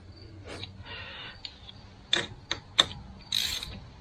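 Bolts on a TYM tractor wheel bearing axle reinforcement kit are tightened with a ratchet, giving short, sharp clicking bursts separated by brief pauses, close and clear over a quiet background.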